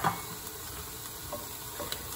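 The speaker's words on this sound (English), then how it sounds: "I added the lentils into pan, so we're going to saute that" Lentils sauté in a pan for a lentil and mushroom bolognese, giving a soft, even sizzle with a few light stirring clicks, close up and without talking.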